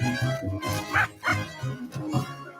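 Dog barking and yipping in a Greenies dental treats advert, a run of short repeated barks and whimpers close by with a faint voice mixed in.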